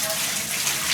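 Beef ribs rinsed under running water, a brief close rush of tap water splashing over the meat, steady and fairly loud.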